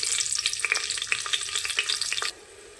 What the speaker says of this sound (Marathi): चला तर मग तेल गरम झालेलं आहे, तर त्याच्यामध्ये आपण मिरची टाकून घेऊया